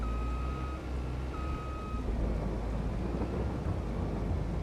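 Steady rain hisses throughout a Farming Simulator 22 field scene with low thunder rumbling underneath and a couple of brief high electronic beeps early on; no one speaks.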